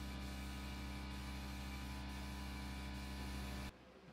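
Lacquer pre-cat vinyl sealer tinted with dye sprayed onto a mid-century Lane cedar chest, a steady close hiss with a constant hum running about three and a half seconds before cutting off abruptly.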